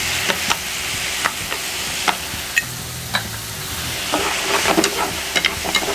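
King prawns fry in a hot pan with a steady close sizzle, sharp crackles and pops scattered throughout, and a few bursts of stirring near the end.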